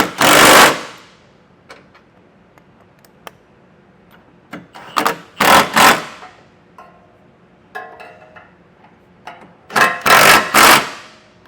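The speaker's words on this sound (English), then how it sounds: "I can go ahead and tighten all the nuts down with a 19mm socket" Socket wrench tightening nuts on a Class III trailer hitch under a 2025 Ford Escape with a 19mm socket: intermittent clusters of loud ratcheting clicks separated by quieter pauses, close by.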